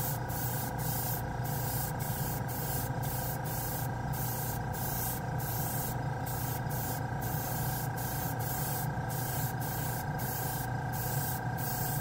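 A $40 Master side feed airbrush sprays alloy paint at 15 PSI onto a spoon, giving a steady, close, continuous hiss of atomizing air with no talking.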